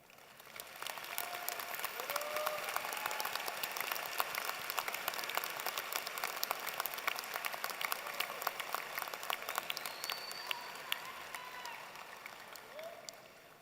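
A university engineering graduation audience applauds military graduates and veterans with sustained, dense clapping that fills the hall, with faint murmuring voices underneath.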